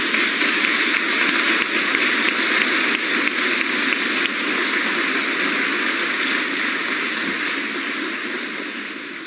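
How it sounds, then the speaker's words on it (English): A large crowd applauding graduating soldiers at an Army basic training graduation at Fort Sill, Oklahoma, a broad hissing roar of clapping that sounds almost like heavy rain, sustained and slowly fading toward the end. "Please give these exceptional soldiers a round of applause."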